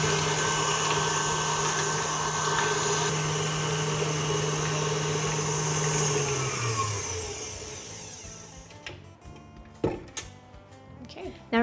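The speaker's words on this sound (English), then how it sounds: "Again, high speed and beat until combined." An electric mixer beats pineapple tart cookie dough with evaporated milk at high speed. Its steady, loud whir winds down and stops, followed by scattered clinks and knocks against the bowl.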